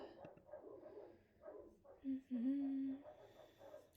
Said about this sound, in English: I'm pretty sure you can hear my dogs.